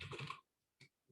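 Keys clatter briefly on a computer keyboard, a short close burst followed by a pause and one more faint tap, quiet and alone.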